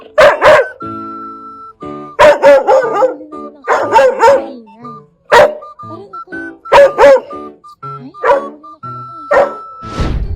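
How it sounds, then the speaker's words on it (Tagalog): A dog greets a woman who came home late, giving repeated loud, close barks and yips in bursts across the whole stretch, some stretched into whiny howl-like cries. "agad yun na itong nilapitan na may kasamang pahipoy at tahol"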